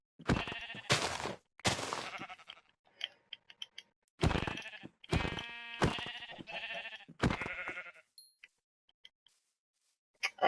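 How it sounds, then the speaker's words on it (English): In Minecraft, a sheep bleats repeatedly in sharp, loud bursts, interleaved with short thudding hit sounds and brief silent gaps, all heard alone without talk. "Okay, I've thoroughly beaten a sheep to death."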